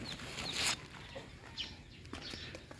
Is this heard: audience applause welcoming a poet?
no